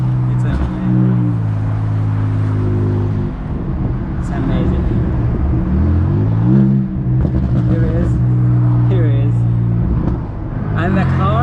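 Turbocharged car on a full-throttle pull, engine rising and falling through several surges with shifts and a few sharp hissing bursts from the blow-off valve, loud and close, with excited voices over parts of the run.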